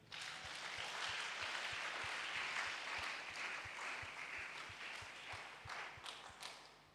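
A church congregation claps and applauds in praise, a dense steady wash of hands with a regular low thumping beat under it, fading near the end.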